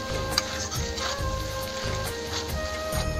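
A ginger and cumin spice paste sautéing in a pan, giving a steady close sizzle with occasional soft scrapes of stirring.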